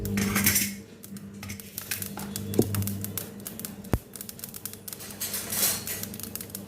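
Mustard seeds popping and spluttering in hot oil in a pan while making tomato gravy, a dense run of sharp crackles and clicks with a few louder pops, close and continuous.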